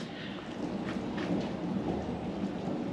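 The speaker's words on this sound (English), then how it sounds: "It's a shame that just came a big thunderstorm." A big thunderstorm with steady rain in Malaysia, a dense continuous wash of rainfall with low rumbling thunder rolling underneath, fairly loud and unbroken throughout.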